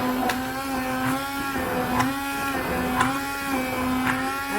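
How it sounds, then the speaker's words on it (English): An electric blender whirring steadily through a DIY hair mask mixture with fragrance oil, a constant motor hum with a faint periodic pulsing. "I'll mix this first and then add the preservative and give it a nice blend."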